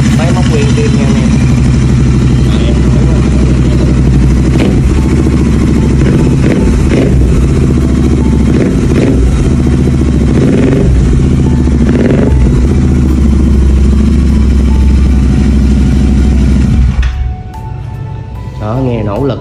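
Close-up of a 2020 Royal Enfield Interceptor 650 with twin exhausts idling loudly and evenly, with a light mechanical clatter and someone talking over it, before the engine note drops away near the end.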